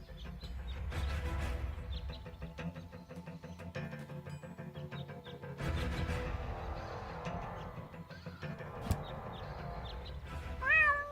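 A cartoon cat in the video game Deponia meows near the end, a rising, wavering cry heard over steady music and ambient game sound.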